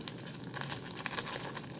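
Close crinkling and tearing of plastic packaging on confectioner's sugar, a continuous rustle with small sharp crackles, no voices.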